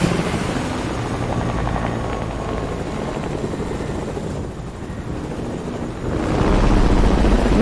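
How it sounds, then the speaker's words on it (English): A helicopter in the video game Fortnite whirs with a continuous rotor and engine drone, steady and fairly loud, swelling louder toward the end. "Look, I'm getting on the helicopter."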